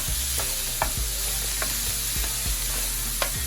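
Colorful vegetables with jalapeño and green onion being stirred and cooked in a hot pan for a sea bass dish: a steady sizzle under repeated scraping strokes of a utensil, close and moderately loud, with no talking.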